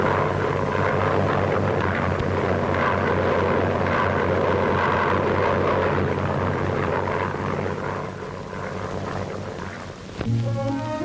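A WWII-era propeller aircraft of the French Normandie air unit on the Soviet front roars steadily with a droning engine, fading slightly before the sound changes abruptly near the end.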